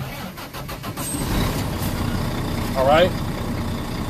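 A truck engine cranks and catches during a pre-trip safety check, then settles into a steady idle under brief speech, close and moderately loud.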